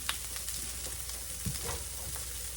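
Ground beef browning in a pan gives off a quiet, steady sizzle, with a few soft scraping stirs breaking through now and then.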